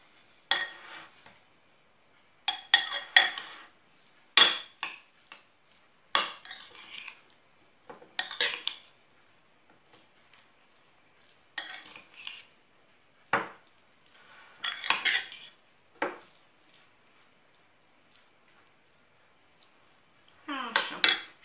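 Rice salad being mixed in a bowl, with a spoon scraping and clinking against the dish in irregular bursts separated by quiet pauses, close and fairly faint.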